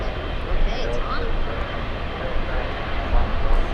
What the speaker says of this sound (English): Lufthansa 452 flying downwind right now.